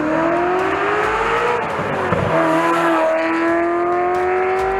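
A 30-year-old Ferrari 348 with its 3.4-liter V8 revs up in a steady, loud run, engine pitch rising and falling through a dip before climbing again, close up and continuous with no talking.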